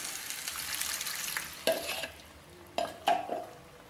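Tamarind water poured into a pan of sizzling vegetables for a Tamil mixed vegetable kulambu, giving a steady frying hiss broken by a few sharp sizzling bursts and stirring clatters.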